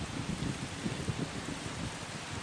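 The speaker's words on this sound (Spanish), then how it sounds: "Entonces empezó a llover y las gotas de lluvia eran grandes y redondas" Steady rain falls throughout as a sound effect in a spoken story about a thunderstorm, a dense continuous patter of drops with a faint low rumble underneath and no voices.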